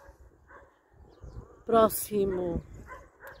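Dogs bark outdoors on a quiet morning in nature, a short close bark followed by a longer whining bark, with faint distant yips before and after and a voice speaking briefly.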